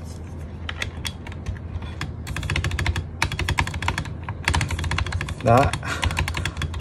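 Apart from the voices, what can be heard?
typing on Fantech Maxfit67 keyboard with sticking switch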